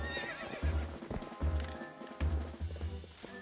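Horse hooves clip-clop in a quick, regular rhythm, broken by a loud whinnying neigh, from a horse in the video game Twilight Princess, heard alone and close.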